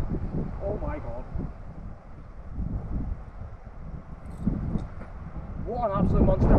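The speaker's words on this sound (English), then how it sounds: "it is very windy, as you can probably hear in the camera" Gusty wind buffets the microphone in low rumbling bursts on a golf course while a person talks over it.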